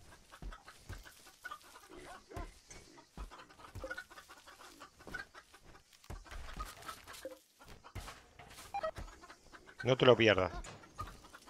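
Chickens clucking in the video game RimWorld, a burst of fowl calls rising near the end over game sounds while someone talks throughout.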